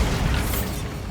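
A Bombarda spell explodes in the PS5 video game Hogwarts Legacy, giving a dense, loud, broadband blast that holds steady for about a second before easing slightly.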